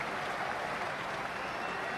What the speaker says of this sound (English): standing and applauding a magnificent display of batting